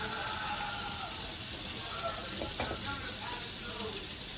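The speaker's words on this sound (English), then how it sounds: "we just frying up some pork chops" Quiet, continuous crackle of pork chops frying in a pan, with faint muffled voices in the background.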